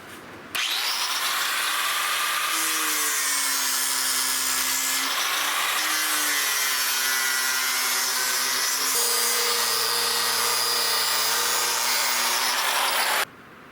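Grinder taking wood off the stock of a 16-gauge European Guild shotgun gives a continuous loud, rough whine, up close and unbroken for about thirteen seconds, with subtle shifts in pitch as pressure changes.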